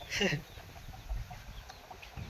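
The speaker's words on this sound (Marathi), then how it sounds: "बघा गावरान कोंबड्या जबरदस्त आहेत" Free-range village hens cluck briefly near a farm fish pond as they are fed, a short burst at the start and then faint scattered sounds over quiet outdoor background.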